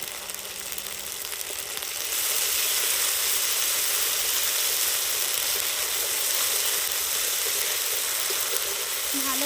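Fish head sautéing in hot oil in a village kitchen, a loud continuous sizzle that swells after the first couple of seconds and holds steady, with faint stirring.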